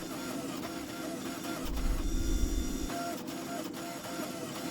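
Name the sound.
press forging ball bearing steel into a bar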